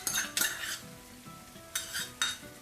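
A spoon scrapes and clinks against a pot while yogurt is stirred into a simmering okra masala gravy, in two short bursts of metallic scraping over a quiet background, close by and with no voices.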